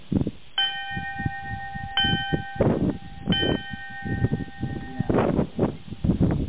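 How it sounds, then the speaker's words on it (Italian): The summit bell on Monte Coglians rings three times in quick succession, each strike ringing out clear with a lingering tone over wind and rustling outdoors. "non posso salire su Coglians senza suonare la famosissima e mitica campana"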